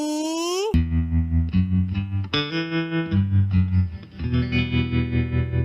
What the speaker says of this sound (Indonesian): ini adalah suara gitar.